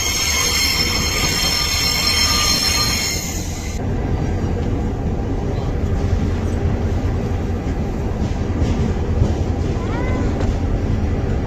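A train moves through Sfax railway station in Tunisia with loud, high wheel squeals for the first few seconds, then a steady rumble and clatter of rolling cars.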